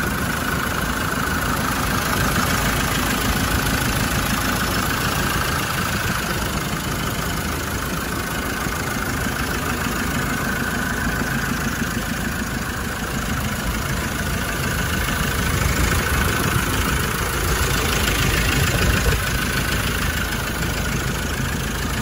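A warmed-up Land Rover Defender 110 with a 2.4 TDCi diesel idles close by in a steady, even rumble, with light clatter throughout and no voices.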